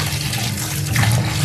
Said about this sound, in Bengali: মাংসটা সুন্দর করে ধুয়ে তুলবো